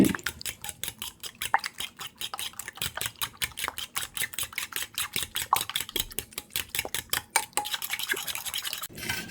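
Utensils stir and mix food in a bowl during home cooking, a quick, steady run of close metallic clinks and scrapes that continues for several seconds with no talking.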